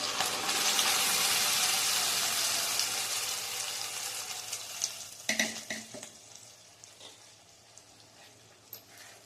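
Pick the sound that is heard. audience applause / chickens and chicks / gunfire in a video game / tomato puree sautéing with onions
tomato puree sautéing with onions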